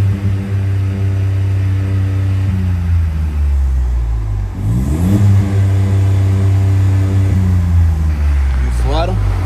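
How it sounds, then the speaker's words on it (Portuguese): A stationary VW Up TSI with a Stage 3 remap revs several times, its engine note climbing and falling in distinct loud sweeps over a steady idle hum, close up. "acelerando parado, com o carro parado."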